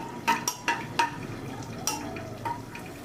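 Cashews in ghee stirred in a pan: a handful of sharp spoon clinks and taps against the metal at irregular intervals over a soft, low background.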